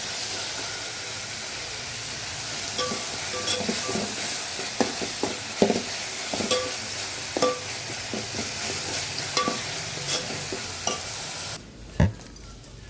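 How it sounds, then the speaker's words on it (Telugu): Ginger garlic paste fries in a pan for Telugu-style fish curry, a steady sizzling hiss under scattered clinks and stirring scrapes before the sizzle cuts off near the end. "అల్లం వెల్లుల్లి పేస్ట్ వేసాం కదండి, వేగిపోయింది."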